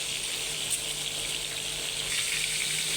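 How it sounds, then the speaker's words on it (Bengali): Pieces of catla fish fry lightly in hot oil in a home kitchen pan. The sizzle is steady and hissing, close up and continuous, with no talking. "মাছটা একটু হালকা করে ভেজে নেব"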